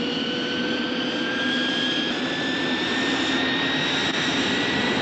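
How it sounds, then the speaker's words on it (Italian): Aircraft engines starting up and running in a 1982 film scene, a steady loud jet-like whine with rising tonal pitch holding over a broad roar throughout. "Bene, via con i motori."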